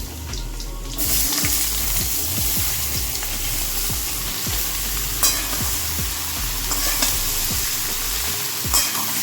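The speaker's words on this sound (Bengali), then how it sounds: "ডালটা একটু ভাজা হচ্ছে" Moong dal sizzles and crackles in a hot pan, a loud continuous frying hiss with stirring scrapes and small knocks, no voices present.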